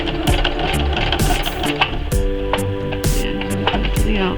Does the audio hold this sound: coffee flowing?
no